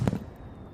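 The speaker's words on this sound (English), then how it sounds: "I love fireworks." A single firework bursts close by with a sharp thud-like boom, then its rumble fades into quiet outdoor air within a second.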